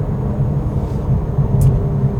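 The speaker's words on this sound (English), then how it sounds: "really nice sound this car makes" A Porsche 911 Club Coupe engine cruising at about 4,000 rpm in third gear, a steady, full low-pitched drone with a faint rise in loudness toward the end, heard from inside the car.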